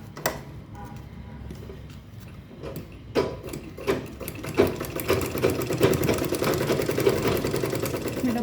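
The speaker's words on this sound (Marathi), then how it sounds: "आता ही चारी बाजूला पण असं स्टिच करून घेऊ आपण." Sewing machine stitching the sides of a fabric box, a rapid mechanical needle clatter that starts hesitantly, then settles into a steady, quickening run; a voice speaks faintly early on.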